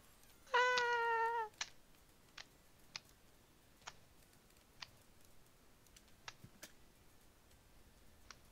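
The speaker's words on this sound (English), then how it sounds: "I heard a cat." A single drawn-out cat meow in a Bloons tower defense game, loud and close near the start, followed by a series of faint, evenly spaced ticking clicks.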